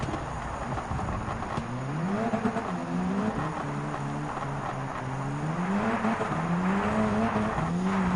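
A Gr.B rally car braking and driving in Gran Turismo 7, its engine note rising and falling through gear changes with a clear whine, tire scrubbing under braking, loud and steady throughout.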